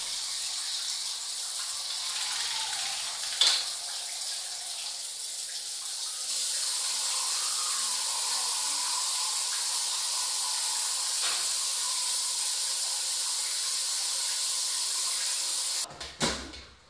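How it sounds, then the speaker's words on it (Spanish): Hot cooked table beets are plunged into ice water, giving a steady watery hiss that rises and holds, with a few faint knocks and a clatter near the end, no voices. "agua con hielo para que esté fría, lo más fría posible, para meterlas ahora, sumergirlas ahí para que corte la cocción"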